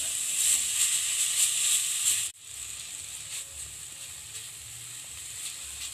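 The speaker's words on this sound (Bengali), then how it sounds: "গ্রেট করা বিটটা দিয়ে দিলাম। এবার ভালো করে নেড়ে নেব।" Grated beetroot stir-fried in a pan as filling for veg patisapta, a loud bright sizzle for the first two seconds that drops abruptly to a softer, steady frying hiss with faint stirring.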